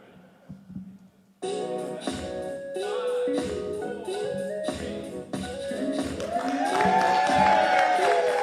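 Audience applause for comedian Edwanda White at a live stand-up comedy show: a short quiet lead-in, then sustained loud clapping from a crowd that grows fuller toward the end, with cheers mixed in.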